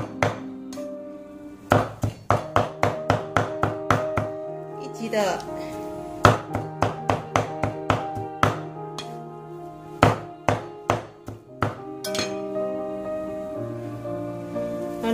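Beef for meatballs is chopped with sharp, rhythmic knife strikes on a board, coming in quick bursts with short pauses, while a person talks over the chopping.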